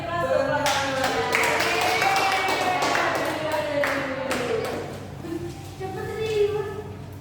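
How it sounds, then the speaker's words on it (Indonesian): Classroom applause for a student group during a microteaching session, a short round of hand clapping from several people that starts, builds briefly and fades, with a voice speaking over it. "Beri aplaus untuk kelompok 2."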